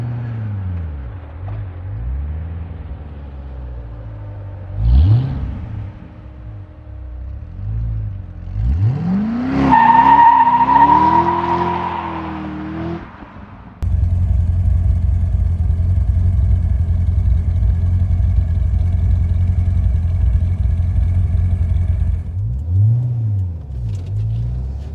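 A C6 Corvette Z06 engine idles with a deep burble, then is blipped in sharp revs that climb and fall. A steady, louder idle rumble follows and carries on to the end, close and clear with no talking.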